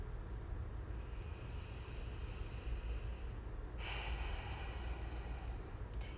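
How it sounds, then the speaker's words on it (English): Slow, deep breathing: a long airy inhale and exhale heard close up over a constant hiss, with a sharper breath partway through and no speech. "Take a deep breath."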